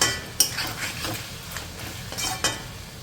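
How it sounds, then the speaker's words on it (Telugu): Chicken frying in a pan with a metal spoon stirring and clinking against the pan, a soft sizzle underneath and a few sharp scrapes and taps spaced across the stretch. "ఇంకొక 4-5 నిమిషాలు ఈ చికెన్ని మనం మంచి కలర్ వచ్చే వరకు ఫ్రై చేసేసుకోవాలి"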